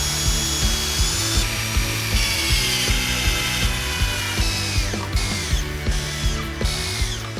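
A power drill drives screws into a DIY wooden weight plate rack, with a loud, close, ratcheting buzz pulsing in regular bursts and several short trigger pauses, and no talking.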